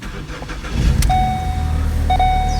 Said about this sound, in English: One thing you guys want to do before, I would say, is turn on the car.